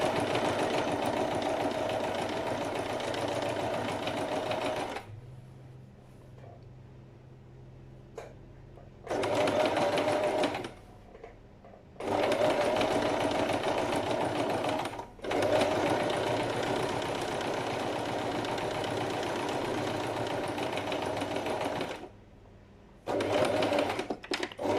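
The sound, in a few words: sewing machine top stitching denim seam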